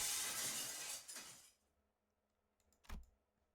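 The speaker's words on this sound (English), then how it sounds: "The chandelier crashed to the floor in full force, making a tremendous noise that thundered throughout the casino." A crystal chandelier crashes to the floor of a casino and shatters, a loud bright burst of breaking glass that tinkles away into quiet, followed by a faint late thud and a few scattered clinks.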